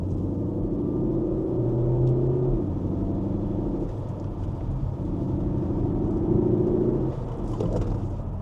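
A CUPRA Leon in Cupra sport mode hums with a steady low engine rumble at moderate level, its pitch gently rising and falling through the drive, with no talk over it.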